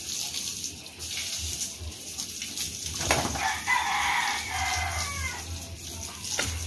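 Water runs and splashes continuously as pigs are washed on a pig farm, with a rooster crowing partway through and a few sharp knocks against the flowing water.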